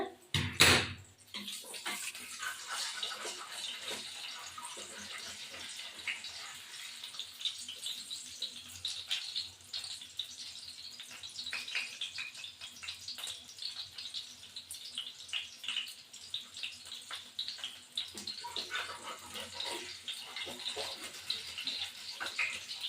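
Hilsa fish pieces fry in hot oil for a golden fry, giving a steady, close sizzling hiss that runs throughout after a brief sharp clatter at the start.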